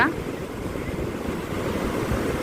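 Sea waves crash and roar continuously on a shore at full height, a dense close wash of surf with wind buffeting the microphone.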